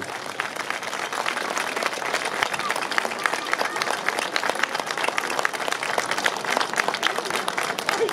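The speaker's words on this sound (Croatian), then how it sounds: "Pa tako Paulina lijepo, popratimo ju pljeskom" An audience applauds a young woman wearing a folk costume at the 59th Brodsko Kolo folklore festival in Slavonski Brod. The clapping is dense, steady and close, and it continues for the whole stretch, with crowd noise underneath.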